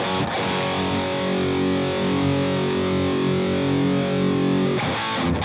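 Electric guitar played through a Boss Metal Zone distortion pedal used as a boost with its distortion turned all the way down, a loud sustained chord ringing for about five seconds, with a sharp attack at the start and end.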